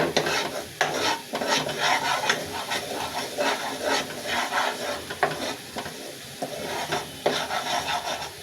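A spoon stirs and scrapes a spiced eggplant, potato and dried fish curry as it sizzles in a pan, with steady scraping strokes over continuous frying noise, close and moderately loud, with no talking.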